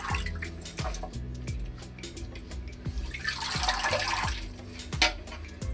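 Red amaranth leaves are rubbed and swished in a basin of water, giving close splashing and sloshing with rhythmic drips and liquid movement throughout.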